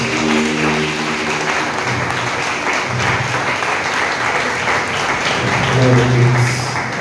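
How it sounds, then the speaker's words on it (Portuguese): Sustained applause from a church congregation, steady clapping throughout with some voices and a few tonal sounds underneath. "Uma salva de palmas para eles"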